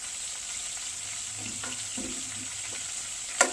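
Lobster tails and sausage frying in a pan, a steady bright sizzle throughout with soft scraping and clinks from stirring, ending on a sharp metallic tap.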